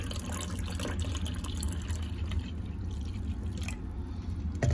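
BodyArmor sports drink is poured gently into a container, a steady low liquid gurgle and splash running continuously for several seconds, close by and without talk.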